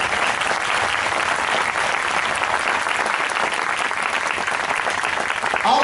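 A church congregation breaks into sustained, vigorous clapping, a thick continuous roar of hands that holds at an even level throughout with no voices standing out.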